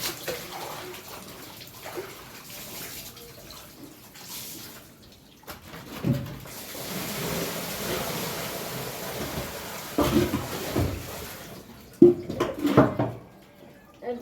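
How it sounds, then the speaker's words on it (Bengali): Floor-mopping rags washed by hand in a basin of water at a home tap, with splashing and sloshing bursts that come and go, strongest near the end, close by. "ঘর মোছার ন্যাকড়াগুলো ধুবো"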